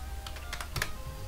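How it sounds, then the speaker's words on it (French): Keys tapped on a keyboard in a Minecraft Security Craft mod, several quick close clicks in an irregular rhythm entering a code, alone with no talk. "vous tapez votre code"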